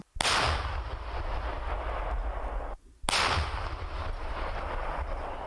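Heavy-caliber artillery firing near Bakhmut and Chasiv Yar: two loud, close booms, one at the start and one about three seconds later, each followed by a long rumbling roar and echo.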